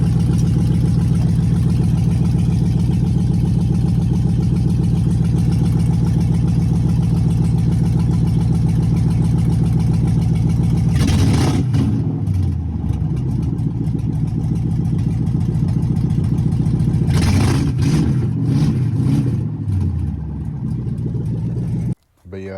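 A swapped-engine 2006–2014 Chrysler 300 idles with a steady low rumble from a cold start, then revs twice in sharp, loud bursts that fall back to idle, recorded close up.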